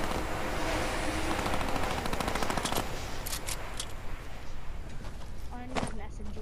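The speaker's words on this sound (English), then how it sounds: "This dude's got a minigun." A minigun in a video game fires a loud, sustained stream of rapid shots that runs for several seconds, with a voice talking over the barrage.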